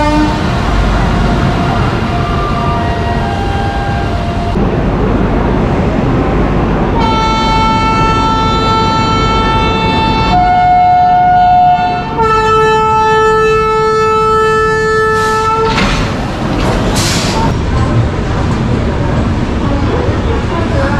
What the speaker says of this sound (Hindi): ये अपना लोकोमोटिव जा रहा है आगे से खुलकर पीछे लगने के लिए।